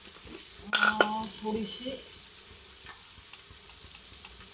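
Cumin and mustard seeds tempering in hot oil for a vegetable daliya breakfast, a faint, soft sizzle under a brief spoken word.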